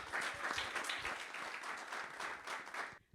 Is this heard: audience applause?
yes